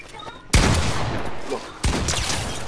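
Gunfire in a Fortnite box fight, with two loud, close bursts of rapid shots, each breaking in suddenly and trailing off into a sustained roar.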